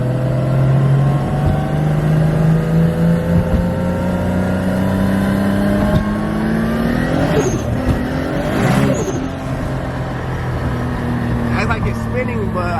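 A Nissan 240SX engine revs hard in second gear, a loud rising tone that wavers and falls back, with people talking over the engine inside the car.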